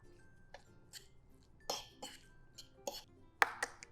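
Salt, pepper, paprika and garlic powder stirred together in a bowl, quiet clinks and scrapes of a utensil against the bowl in irregular bursts.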